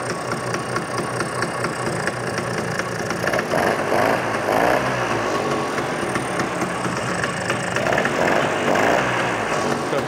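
Vintage Vespa P200E two-stroke scooter, run again after sitting over two years, idles steadily and smoky with the choke off, a close, continuous rattling putter with slight surges.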